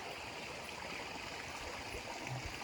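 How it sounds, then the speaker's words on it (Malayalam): A cold mountain stream flowing through a grassy meadow below a camp near Agasthyarkoodam, a continuous soft rushing and trickling of water, steady and fairly quiet with no voices. "ക്യാമ്പിന് താഴെയുള്ള പുൽമേട്ടിൽ നല്ലൊരു അരുവിയുണ്ട്."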